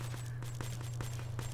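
Gunfire in a Black Ops 3 match, a faint rapid burst of automatic shots ticking at an even rhythm over a low steady hum.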